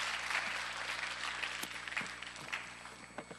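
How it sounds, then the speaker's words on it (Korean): Korean church congregation applauds their pastor after a Sunday sermon, a sustained wash of many hands clapping in a large reverberant hall, moderately loud and gradually thinning out. "우리 수고해 주신 우리 목사님께 다시 한번 우리 박수 한번 예."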